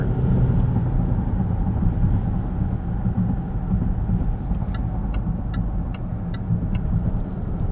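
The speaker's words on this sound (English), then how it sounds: "This is a pretty steep hill, still pulls without any effort." A 2018 Land Rover Discovery HSE Luxury td6 SUV climbs a steep hill, its diesel engine giving a steady, loud low rumble heard from inside the cabin, with a few faint ticking clicks later on.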